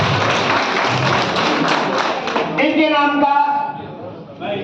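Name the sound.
applause for new district office-bearers at teachers' convention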